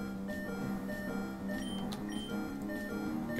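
Electronic beeping from the video game Pokémon Ruby/Sapphire repeats in short, evenly spaced tones, fairly quiet over a busy background of game music.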